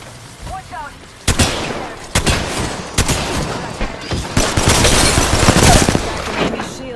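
Gunfire in the battle royale video game Apex Legends: repeated loud, close bursts of automatic weapon fire in rapid clusters, growing denser toward the end, with voices underneath.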